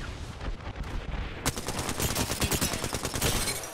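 Rapid automatic gunfire from Apex Legends, a dense run of sharp close shots that grows heavier halfway through and continues to the end.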